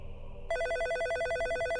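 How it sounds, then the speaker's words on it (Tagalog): A telephone bell rings close and clear, starting after a brief moment of quiet. It keeps a steady, rapidly repeating electronic trill for the rest of the moment, with nothing else heard. "May tumatawag sa telepono."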